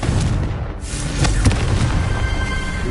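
A Confringo fire spell blasts in Hogwarts Legacy, a loud booming burst with crackling debris over dense, rumbling game action, heavy low-end noise filling the whole moment.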